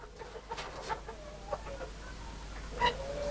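Serama chickens cluck in a few short, moderately faint bursts spaced irregularly over steady low background noise, with no talking.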